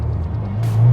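Engine of a new Subaru WRX with a manual gearbox builds from a low rumble into a louder, rising drone within a single second, close and unaccompanied.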